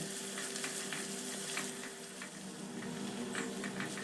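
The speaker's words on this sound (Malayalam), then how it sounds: "10 ചെറുള്ളി, ചെറിയ ഉള്ളി ഒരു 10 എണ്ണം നേരിയതായി കട്ട് ചെയ്തതും കൂടി ചേർത്ത് നല്ലതുപോലെ വഴറ്റി കൊടുക്കുക." Ginger and thinly sliced shallots sauté in a pan for a fish milk curry, a close, even sizzling hiss with faint stirring ticks running steadily throughout, no voices.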